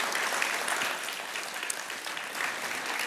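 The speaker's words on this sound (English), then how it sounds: "give a round of applause for our Keerthna" An audience applauds a performer at an Arangetram, a classical dance debut, with dense, steady clapping that fills the whole stretch without a break.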